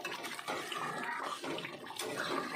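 A mustard paste curry with water just added simmers in the pan, a faint, continuous bubbling and sizzling hiss that stays soft and steady throughout with no talking.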